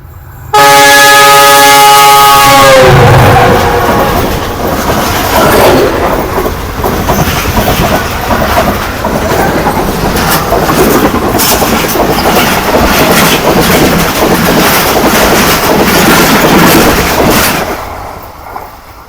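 Awami Express thunders past at close range, opening with a long blaring horn, then a loud steady rush of wagons and clattering wheels that holds before cutting off near the end.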